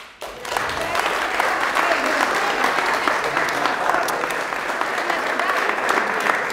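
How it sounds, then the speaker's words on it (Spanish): A large audience at a farewell speech to the Spanish-speaking community gives a dense, sustained round of applause for Uruguayan compatriots, loud and even throughout. "Y yo les pido para ellos, para los compatriotas uruguayos, un aplauso."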